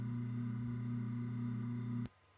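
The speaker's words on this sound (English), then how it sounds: "garbage disposal sounds like this" A steady motorized hum with a strong low drone, like a garbage disposal grinding away, running continuously and then cutting off abruptly near the end.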